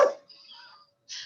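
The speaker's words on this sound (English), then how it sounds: "excuse my dog" A pet dog named Cookie gives one sharp bark followed by a faint whine and another short yelp, close by in a quiet room.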